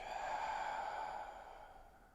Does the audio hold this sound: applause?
no